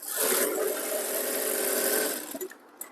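Sewing machine stitching a folded half-inch edge for a blouse hook strip, a steady close whirring run of about two seconds that then stutters and stops, with no talk.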